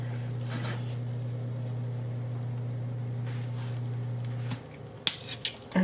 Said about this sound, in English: I'm going to take it out of the pan.